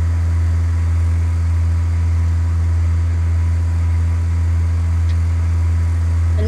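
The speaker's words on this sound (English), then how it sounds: "You might not be able to hear me that well because of the plane." Single-engine propeller plane in Flight Simulator X droning steadily and loudly with a deep, even hum, constant throughout with no talking.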